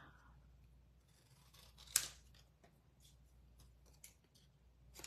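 Paper snipped with scissors while trimming die-cut deckled rectangles for a card, with a few quiet cuts and one sharp crisp snip standing out against a soft background.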